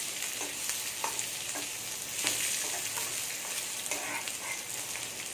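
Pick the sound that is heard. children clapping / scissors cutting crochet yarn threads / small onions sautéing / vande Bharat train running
small onions sautéing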